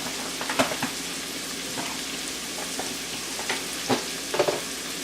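Bottle gourd and carrot pieces drop into a hot pan for sambar, giving a steady close sizzle broken by a few sharp crackles and stirring clatters, with no voices.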